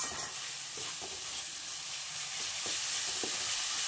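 Spice masala sizzles steadily in a hot pan while being stirred, a continuous close frying hiss with faint scraping as it is moved around.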